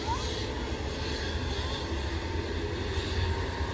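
Airliner engines at the beach viewpoint beside Phuket airport in Thailand, a loud, steady jet roar filling the whole clip as a plane passes close overhead.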